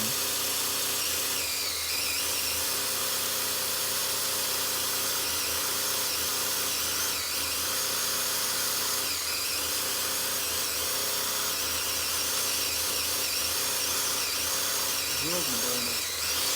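A power drill whines continuously at high pitch, steady and close, with slight shifts in tone throughout, during assembly of a small block 350 engine.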